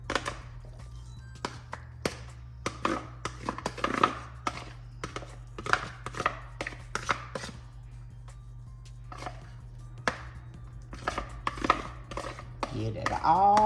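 Drained tuna scraped from a can into a salad bowl with eggs, a string of close metal taps, clinks and scrapes over a low steady hum, fairly quiet.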